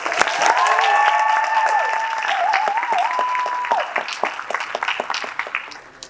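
Pageant contestants receive a round of audience applause after their speeches, a steady crowd clapping with sustained musical tones layered over it, tapering off toward the end.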